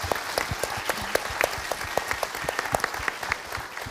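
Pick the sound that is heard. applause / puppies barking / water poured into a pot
applause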